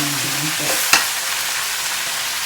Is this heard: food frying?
yes